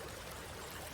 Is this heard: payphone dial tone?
no